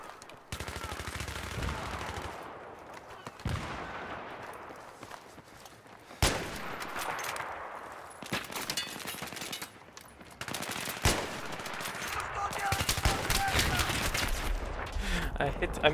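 Battlefield 3 multiplayer gunfire: sharp bursts of automatic fire and single shots spread across the span, loud and close, separated by brief gaps, with footsteps and a voice talking underneath.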